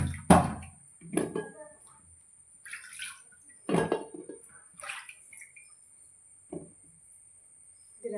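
Ingredients being washed and cleaned by hand in a pot of water, with intermittent splashes and sloshing strokes at irregular intervals, close and fairly quiet, with no talking.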